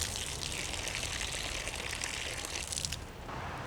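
A single stream of water pours onto garden soil as a soft, continuous gushing splash. It sounds close but faint, and it eases off slightly near the end.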